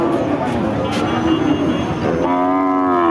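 A cow moos loudly and close by at a busy cattle market, a long harmonic call rising near the end over crowd chatter and people talking.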